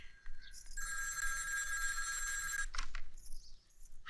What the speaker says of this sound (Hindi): हेमा, हेमा, देख शायद भैया जी का फोन है।